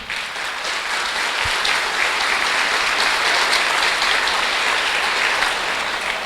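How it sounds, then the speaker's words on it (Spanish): Sustained applause from a church congregation welcoming a Pentecostal guest, a dense, steady wash of clapping that stays loud and even for the whole stretch with no voices over it. "Un aplauso pues para el hermano"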